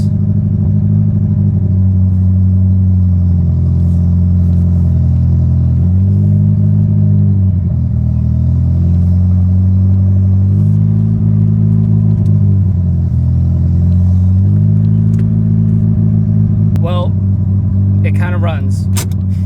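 Honda Prelude engine idling after warming up for a few minutes, a loud, close, steady low rumble with gentle rhythmic swells in pitch, and some faint clicks near the end.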